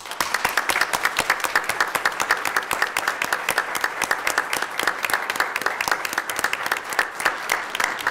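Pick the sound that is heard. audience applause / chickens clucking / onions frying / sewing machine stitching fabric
audience applause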